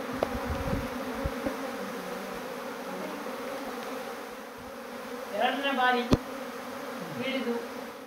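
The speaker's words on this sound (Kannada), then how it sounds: "ಜೇನು ಕುಟುಂಬ ಓಡಾಡ್ತಾ ಇದೆ" A honeybee colony buzzes around a new hive box set on a stand under a house eave in Venur, a steady droning hum of many bees with sharper passing buzzes close by and a few knocks.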